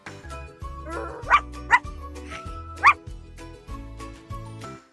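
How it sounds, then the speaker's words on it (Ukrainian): A dog barks three or four times, sharp and moderately near, over a rhythmic musical backing. "Мама собака, тато пес."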